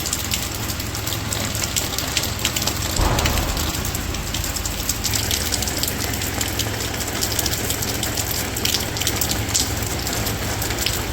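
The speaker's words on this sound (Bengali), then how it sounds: "আজকে আবার যে বৃষ্টি নামা পড়ছে।" Rain falls steadily in a village with a dense, continuous patter on surfaces. It is close and fairly loud, and the level stays even throughout with no speech.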